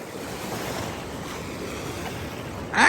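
Atlantic Ocean surf at a beach in St. Augustine, Florida, a steady broad wash of breaking waves with wind buffeting the microphone, swelling louder at the very end.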